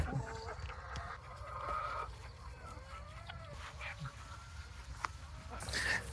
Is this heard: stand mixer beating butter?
no